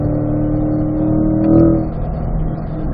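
A race car engine pulls hard in fourth gear around a track on a hot lap, a steady, loud droning roar that swells briefly mid-run and then settles back to an even drone.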